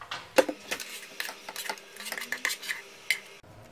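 A spoon stirring stewing ratatouille in a pan, scraping and clinking against the metal in quick irregular knocks, close and fairly quiet with no talk.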